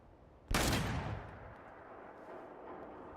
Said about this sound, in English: It's gonna be loud. It's a shotgun.